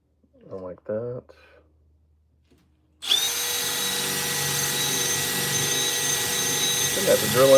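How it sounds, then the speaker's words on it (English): A power drill bores a hole into a small handmade wooden miniature birdhouse, a loud steady whir starting abruptly after a brief spoken remark and running continuously to the end, close up. "Let's drill a hole."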